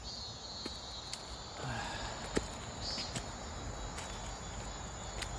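A constant high buzzing of cicadas fills the summer air, a dense droning chorus with a few soft thuds and rustles beneath it.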